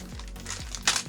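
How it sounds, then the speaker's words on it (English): Plastic product packaging from a Fitbit unboxing crinkles up close in a short, soft burst of rustling, with a slightly sharper crackle near the end. "Sorry for the crinkling. I hope that sound is satisfying."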